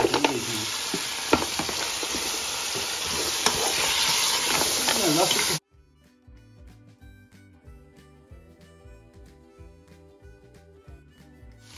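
Meat fries and is stirred in a pot for Kabuli pulao, giving a loud, dense sizzle with scraping stirs up close for about five and a half seconds. It then cuts abruptly to quieter background music.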